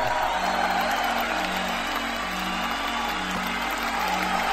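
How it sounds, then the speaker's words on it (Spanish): An outdoor crowd applauds as a parade gets under way, a dense, continuous wash of clapping and crowd noise that stays steady and fairly loud from start to finish. "La gente aplaude."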